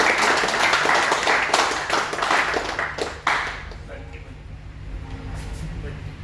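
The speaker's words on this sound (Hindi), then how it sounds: "तो एक बार सर के लिए जबरदस्त ताली" Enthusiastic clapping from an audience at an indoor business meeting, a dense burst of applause that tapers off after about three seconds, with voices mixed in.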